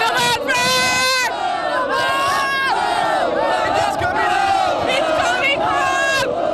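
French football fans gathered by the thousands at the foot of the Eiffel Tower chant and cheer for France in a World Cup final, a loud massed crowd roar with rising and falling sung chants.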